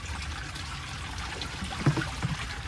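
Water trickling and draining out of a garden compost bin during a late-summer garden clean-up, a soft, steady dribble close by with a few light knocks and splashes, no voices.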